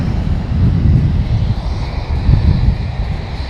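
An ATR turboprop airplane taxiing at an airport, a steady low rumbling engine drone with a gently pulsing roar, fairly near and alone without talk.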